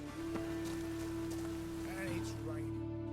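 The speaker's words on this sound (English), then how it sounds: "And it's raining." Steady rain hisses across the whole scene in The Witcher 3 video game, forming a constant wash of sound beneath a low tone and faint game voices.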